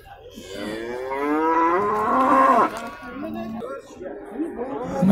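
Cattle at a crowded livestock market low in long, drawn-out moos that rise and fall, loud and close, with people chattering and talking in the background.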